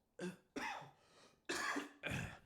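Four harsh coughs from a man with a cold, in two pairs, close and fairly loud, with a brief gap in the middle.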